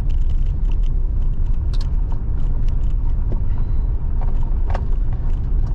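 A four-wheel drive car rolls along a bumpy forest road near Lake Cushman, its engine and tyres making a steady, close, loud rumble throughout with small rattles and jolts from the rough surface.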